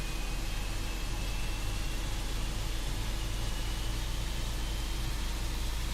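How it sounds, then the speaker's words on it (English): Fenix A320 jet engines spool up in Microsoft Flight Simulator, a dense, steady broadband roar with a low hum underneath that holds constant throughout, with no speech. "Okay, that's spooling up nicely."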